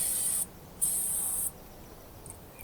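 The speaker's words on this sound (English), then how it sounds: "So I just kind of sprayed around it, and also around the bearing, the nut, the threading." Brake cleaning solution is sprayed around a camper's wheel bearing, nut and threading in two close, sharp hissing bursts separated by a short gap, with a faint third puff near the end.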